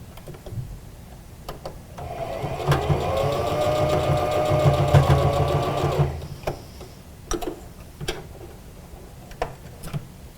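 A sewing machine runs in a steady mechanical whir for a few seconds while stitching a fabric face mask, framed by close clicks and light handling knocks before and after.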